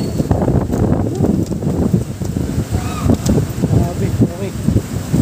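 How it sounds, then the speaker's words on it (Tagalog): Strong wind from Typhoon Opong buffets and roars against the microphone while riding a Honda Click 125 motorcycle, gusting in uneven bursts with a voice speaking under it. "Lakas ng hangin mga kalbil"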